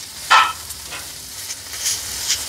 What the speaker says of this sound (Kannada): ರೋಸ್ಟ್ ಮಾಡ್ಕೊತಾ ಇದ್ದೀನಿ.